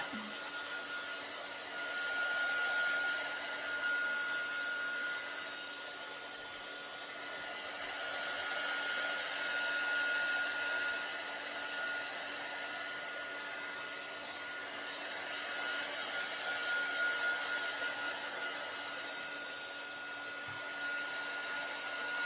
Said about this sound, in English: I'm going to go ahead and use the heat gun because I want this dry